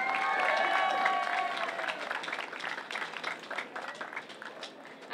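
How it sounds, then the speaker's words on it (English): A crowd at the Miss Asia Fest beauty pageant in Tampa, Florida applauds Miss Japan, the dense clapping strong at first and then thinning into scattered claps, with cheering mixed in. "Let's give Miss Japan another round of applause."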